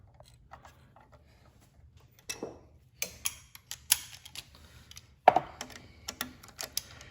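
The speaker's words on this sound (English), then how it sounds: "then I go back and tighten them with the socket wrench" A socket wrench ratchets while tightening bolts on a turbo and exhaust manifold of a Fiat 500 Abarth, giving quick, irregular clicks in short bursts over a quiet background.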